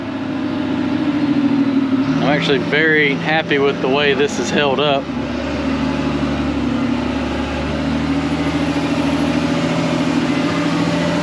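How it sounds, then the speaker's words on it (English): A truck engine drones in a steady low rumble from inside the cab while it drives along a muddy valley road, with someone talking over it for a few seconds. "So I'm actually going to drive out so I can fill the truck up."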